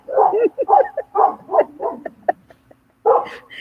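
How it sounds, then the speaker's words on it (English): Neighborhood dogs bark in a rapid, excited volley of short barks and yips, fairly close, trailing off before one more loud bark, with no talking over them. "And the dogs are barking."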